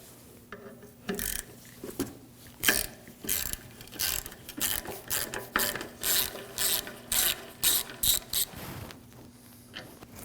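A ratchet backs a 10 mm bolt out of the power running board motor bracket on a 2009-2014 Ford F-150, giving a long run of rhythmic close clicking strokes, loud and even, with no voices.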